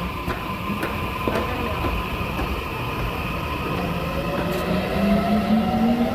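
Subway train pulling out of a clean station, a steady rumble and rail hiss with a motor whine rising in pitch as it gathers speed, close and continuous with no talk.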